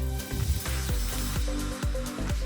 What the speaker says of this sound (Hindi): यहाँ पर तेल थोड़ा गर्म हो गया है, तो अब मैं परवल को डाल देती हूँ